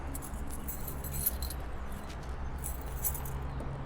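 Car keys for a 1987 Buick Grand National jingle and clink in a few short metallic bursts, close by, over a steady low background rumble, with no talking.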